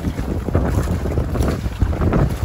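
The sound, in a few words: strong wind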